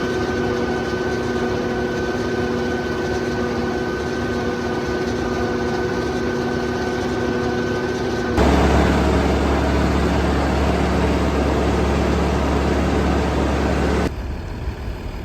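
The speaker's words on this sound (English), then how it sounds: "the tractor will start moving slowly as the feed packs in there" A steady low tractor engine drone with a faint tonal hum, growing slightly louder and rougher partway through as it creeps along packing chopped corn feed.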